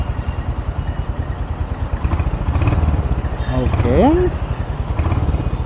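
A 2025 Royal Enfield Hunter 350 motorcycle engine idles just after starting, with a steady, close thumping beat. Someone talks over the engine.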